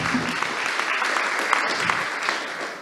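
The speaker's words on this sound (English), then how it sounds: "Maybe we should clap for all our session organizers for this beautiful presentation" Conference audience at a plenary session claps for the session organizers, a sustained round of applause with individual sharp claps standing out, faint voices mixed in beneath.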